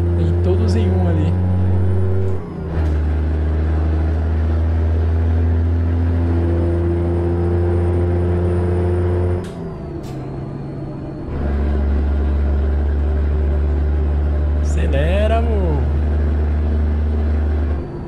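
A Volvo truck engine in Euro Truck Simulator 2 hums steadily and low as the truck drives, with slight pitch shifts and brief dips, while someone talks over it throughout.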